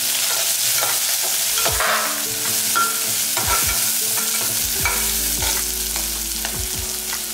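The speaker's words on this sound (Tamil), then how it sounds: "இப்போ ரெண்டு பிஞ்ச் அளவுக்கு பெருங்காயம் போட்டுக்கலாம், நல்லா ஒரு இனுக்கு அளவுக்கு கருவேப்பிலை போட்டுக்குவோம், ஒரு கைப்பிடி அளவுக்கு சின்ன வெங்காயம் போட்டுக்கலாம்" Asafoetida, curry leaves and small shallots frying in oil for a green gram dish, a loud close sizzle with repeated spatula scrapes and stirring strokes throughout.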